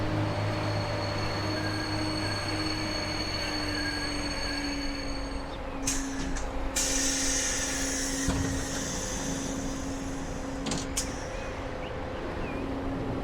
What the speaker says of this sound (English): train T3 making its last stop before going into the depot